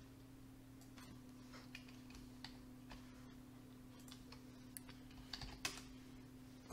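Keystrokes on a computer keyboard while working in SQL Server, faint irregular taps scattered over several seconds above a steady low electrical hum, with no talking.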